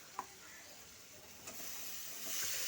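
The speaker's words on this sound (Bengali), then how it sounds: "এখন দিয়ে দিলাম কিছুটা কাঁচা ছোলা। এটা দিয়ে মশলাটা একটু বেশ সুন্দর করে মজিয়ে নেব।" A spice paste with ginger sizzles in a pan as raw chickpeas are stirred in, giving a soft steady hiss with a few scraping clinks of the spoon, faint and close, without talking.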